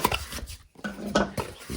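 A camping cookware set of kettle, pan and pot is handled while being unpacked, giving a few close, light metallic clinks and knocks in a quiet setting.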